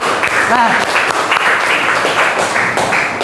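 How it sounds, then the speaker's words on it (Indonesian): A classroom group applauds steadily throughout, a dense wash of clapping at moderate loudness, with a brief voice heard early on. "Oke, berikan tepuk tangan ya."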